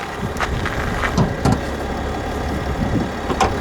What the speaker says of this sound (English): Pop the hood so you can see the diesel and hear the diesel.